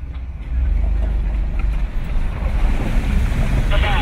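A battle van on the Gambler 500 off-road rally ploughs through deep water, giving a loud, continuous rush and splash of churning water with heavy wind buffeting close to the microphone throughout.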